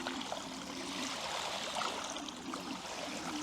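A fat-tire electric bike rolls through a water puddle, giving a continuous soft splashing, trickling wash that stays fairly faint and even for a few seconds, with no one speaking.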